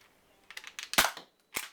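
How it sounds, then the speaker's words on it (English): A Wipeout Pistol Splat toy blaster fires stock Nerf darts: a few quick mechanical clicks, then a sharp close pop, followed after a short pause by a second pop. "it can fire stock darts or stock Nerf darts without any rebarreling of any sort"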